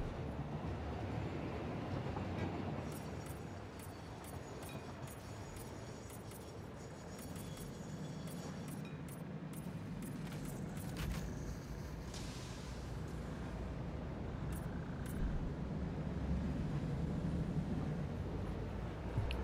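A train rolls past in the factory-building game Satisfactory, a faint, continuous rumble with scattered metallic clanks and rattles over nearly twenty seconds.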